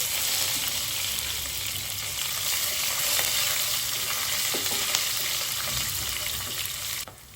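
Cumin, curry leaves and green chillies crackle in hot oil for jeera rice, making a steady, loud, close sizzle that continues unbroken for about seven seconds, then cuts off suddenly.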